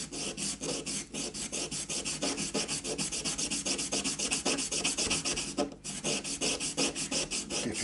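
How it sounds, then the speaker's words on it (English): A replacement nut for a left-handed Squier Affinity Stratocaster is rubbed back and forth on a small sanding jig, giving a steady, close, rasping scrape in quick repeated strokes with one brief pause near the end. "I've got myself a little sanding jig."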